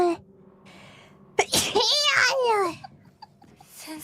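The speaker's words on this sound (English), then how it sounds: "where did the sneeze come from?" A sharp, close sneeze bursts out once in the middle, followed by a high, giggly vocal trail, with quiet background murmur before and after.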